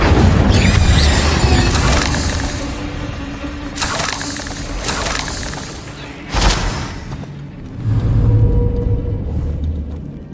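An Incendio fire spell erupts in Hogwarts Legacy with loud rumbling whooshes and bursts, swelling and fading over several seconds with a sharper impact midway.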